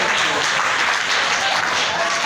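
Loud sustained applause from a group of secondary-school students in a classroom, thick overlapping claps held at an even level across the short burst.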